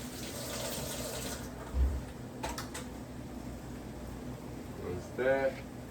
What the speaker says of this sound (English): I like to rinse my hands off, guys.